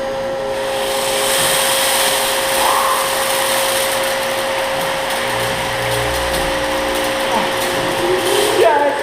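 A pressure sprayer at a self-service car wash rinses a person doing an ice bucket challenge, giving a steady, loud hiss of spraying water with a mechanical whine underneath and a faint voice at one point.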